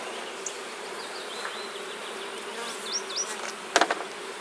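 Honey bees buzz at an active beehive in a May apiary, a steady hum of many insects with individual wingbeats flitting close by, growing busier toward the end.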